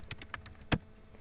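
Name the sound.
typing on a computer keyboard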